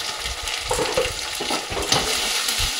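Green chili paste, ginger paste and cumin paste sizzle steadily in hot oil in a home kitchen, a close, continuous crackle broken by soft stirring scrapes.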